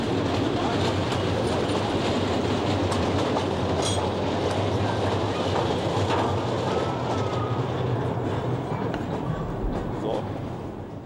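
A mine train pulled by an 8 hp 1957 Siemens battery locomotive rolls past close by, with continuous rail clatter and wheel rumble and a brief squeal, while a voice talks over it.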